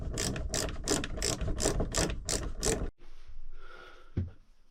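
A hand ratchet drives screws into a motorhome skylight, giving a rapid series of about eight loud, close clicking strokes, then a pause with faint handling noise and a single knock.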